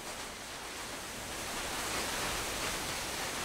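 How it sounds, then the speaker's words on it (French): The Blue Dragon waterfall, a mountain cascade near Chambéry in Savoie, gives off a loud, broad, unbroken rushing roar heard up close, swelling slightly across a few seconds with no voices. "À 2 pas de Chambéry, la cascade du dragon bleu."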